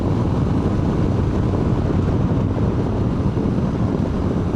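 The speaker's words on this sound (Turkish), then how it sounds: "Bayağı rüzgar var." Strong wind roars steadily against the microphone while a motorcycle rides through southeastern Anatolia, a constant loud, broadband rush with no pauses and no talking.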